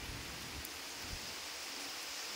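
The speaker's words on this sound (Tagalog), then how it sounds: "Walang tigil ang ulan." Steady heavy typhoon rain hissing down in Lopez, Quezon, a dense continuous wash of sound with faint low rumbles underneath and no voices.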